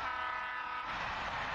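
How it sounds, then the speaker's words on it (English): A train in Alan Wake Remastered rushes past in a loud, steady roar with a brief horn-like tone, filling the whole short moment with no talk. "The train!"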